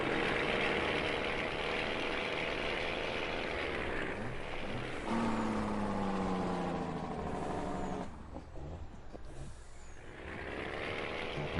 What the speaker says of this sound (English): It's one of the most realistic trucks I've ever heard in the game.